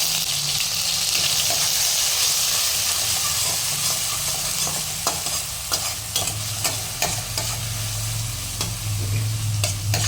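Onion paste frying in hot white oil in a kadai gives a steady, close sizzle with intermittent scraping and stirring clicks throughout, no voices.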